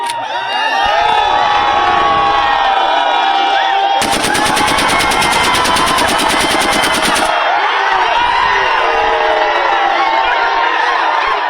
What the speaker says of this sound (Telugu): సమ్మక్క తల్లి రాకకు సూచికగా జిల్లా ఎస్పీతో పాటు పోలీసులు గాలిలో కాల్పులు జరిపారు.